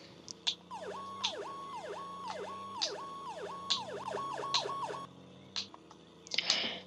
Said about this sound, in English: here are the lights and sirens